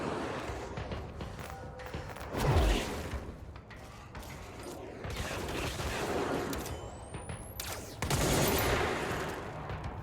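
The Former boss in Control keeps shooting during a boss fight in Sector 9, with rapid volleys of gunfire and impacts, a low swooping whoosh and a bright rising zap, all loud and continuous.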